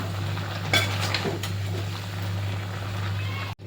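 A pot of chicken curry is stirred on a gas stove, with a few light metallic scrapes and clinks over a steady low hum and background hiss.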